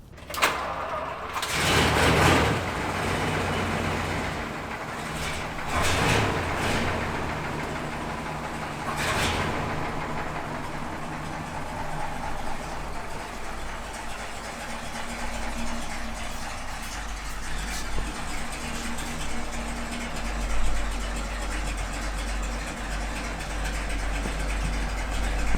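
A V12-powered rat rod car fires up with a brief cranking burst, then settles into a low, steady idle that runs quietly and evenly for a long stretch, close by in a shop.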